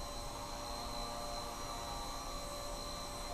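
A Blade Nano CP S mini RC helicopter hovers indoors, giving a steady, faint high-pitched whine with a soft whirring hum underneath and no voices.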